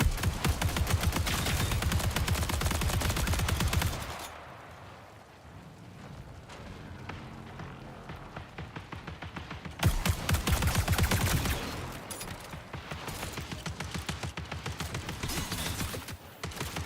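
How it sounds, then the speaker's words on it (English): A light machine gun fires in the shooter game Marathon, with long rapid bursts of sharp, loud, closely spaced shots for about four seconds, a quieter gap, then another sustained stretch of automatic fire. "He's got an LMG, doesn't he?"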